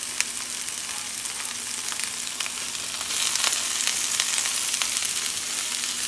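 Hot peppers, onion and zucchini sauté in a pan for a small stir fry, giving a steady close broadband sizzle that grows slightly louder partway through, with occasional sharp pops and crackles and no talking.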